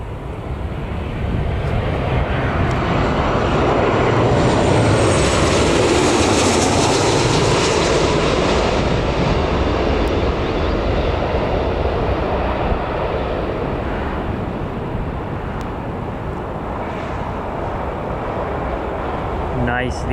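Airliner landing at Newcastle Airport, its jet engines a loud, steady broadband roar that swells toward the middle and stays close and sustained, with voices talking over it.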